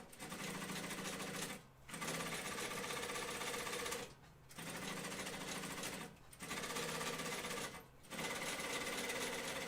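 A sewing machine stitches a second row along a seam allowance on a flight suit, running in steady buzzing bursts of about two seconds separated by brief pauses, close and even.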